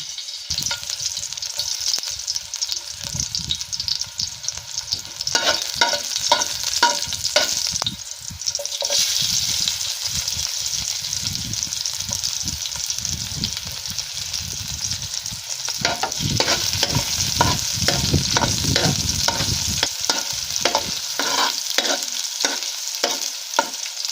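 Garlic sautés in a pan for pinakbet. A loud, close sizzle runs under repeated scraping and stirring strokes that come in bursts, with no talking.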